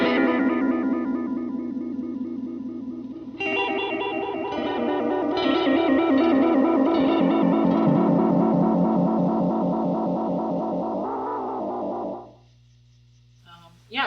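An electric guitar played through an effects pedal with its depth turned up gives a warbling, wobbling modulated tone; a low hum comes first, then the loud wavering chords sustain before cutting off near the end.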